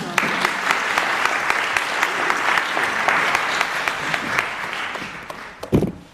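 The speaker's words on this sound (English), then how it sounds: "Could you give them another round of applause?" An audience at an evening event gives a sustained round of applause, dense steady clapping for about five seconds before fading, with a brief burst of voices near the end.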